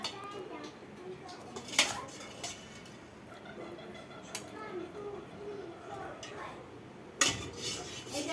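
Bowls and dishes clink sharply as mutton curry is served, with a few louder knocks and scattered softer clatter against a quiet indoor background.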